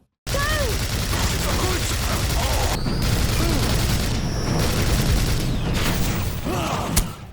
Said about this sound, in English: The minigun does what a minigun does, raises hell.